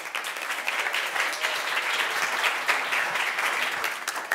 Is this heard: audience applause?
yes